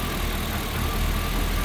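A Ford Performance Crate 7.3 Godzilla V8 paired with a 10-speed automatic running at a steady idle, a loud continuous rumbling drone with a fine rapid pulse, close by with no talking.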